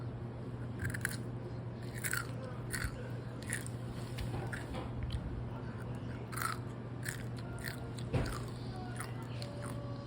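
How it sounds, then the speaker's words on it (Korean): A child crunches through fried blue crab legs with sharp, close, repeated bites and chewing, irregular crisp cracks spread across the moment over a faint steady background hum. "다리부터 먹어야 안정적이게 먹을 수 있어요."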